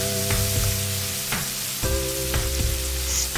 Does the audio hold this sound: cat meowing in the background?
no